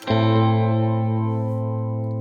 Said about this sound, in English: Then this is the amount of delay you hear in the signal, the amount of reverb.